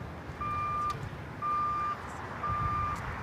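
Three evenly spaced electronic reversing beeps from a vehicle backing up on the LAX airport ramp, each a steady tone of about half a second over a continuous low engine rumble and outdoor background noise.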